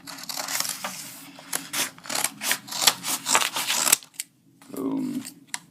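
Cardboard being cut by hand for a homemade Jurassic Park T. rex model, a run of close, scratchy rasping strokes and snips with brief pauses, ending with a softer rustle.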